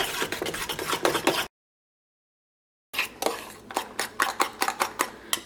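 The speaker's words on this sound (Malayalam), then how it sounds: "മുട്ട ഇതേപോലെ മിക്സ് ചെയ്തെടുത്തിട്ടുണ്ട്." Eggs being whisked with cheese and salt in a bowl, a quick run of close, rhythmic clinking and scraping that breaks off for a moment of silence and then resumes in sharp repeated taps.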